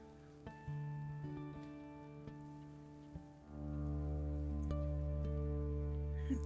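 Rain during a thunderstorm in the WolfQuest video game, a faint steady patter beneath sustained musical tones that swell louder partway through, with occasional soft clicks and no voices.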